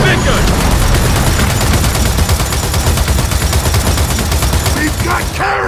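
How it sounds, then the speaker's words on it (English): A heavy gun in the Gears of War 4 video game fires a loud, continuous, rapid stream of shots that stays close and powerful throughout, with voices shouting faintly underneath the barrage. "Looks like they're bringing out the big gun!"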